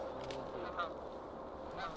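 A flock of geese honks while flying over a field during a North Dakota goose hunt, the calls faint and distant, overlapping in a loose, continuous chorus.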